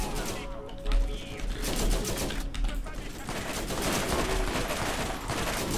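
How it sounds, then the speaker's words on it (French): An automatic gun fires in the Borderlands video game in rapid repeated bursts of sharp shots, fairly loud and dense over a steady backdrop of game noise. "Maintenant c'est la mitraillette."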